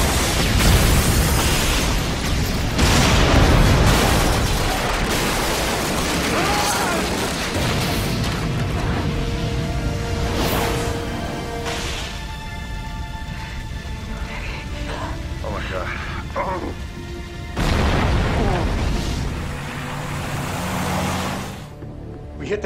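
A TV sound effect of a missile striking a building: a loud roaring blast opens, rumbling debris follows, and a second heavy burst comes later, with voices talking in between.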